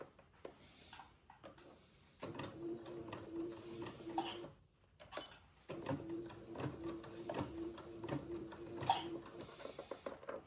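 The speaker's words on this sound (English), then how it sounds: "I'm going to sew the lining to the skirt with a 3/8 inch seam allowance" A sewing machine stitching a lining onto a sundress skirt, running close and steady in two long bursts separated by a short pause, with faint clicks and handling noises.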